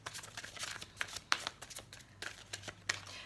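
Oracle cards shuffled for a card reading, with repeated soft riffling and slapping bursts of papery rustle, close and fairly quiet, no talk.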